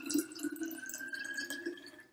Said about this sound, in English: Make sure water's a little warm and you want to fill it just about halfway.